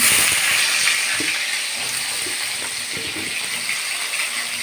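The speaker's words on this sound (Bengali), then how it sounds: "এখন আমি বেগুনগুলো ভেজে তুলে নেব বেগুনগুলো দিয়ে দিচ্ছি" Steady, loud sizzling of eggplant slices frying in hot oil, a constant crackling hiss with no voices.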